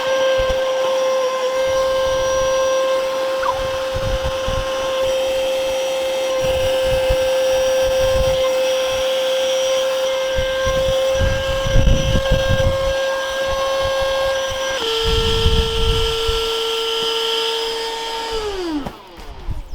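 An Etenwolf Vortex S6 portable tire inflator runs steadily while pumping up a tire, its close, loud motor drone holding an even pitch before dropping slightly and then winding down to a stop near the end.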